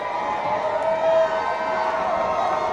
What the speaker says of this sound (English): McDuffie with the crowd getting loud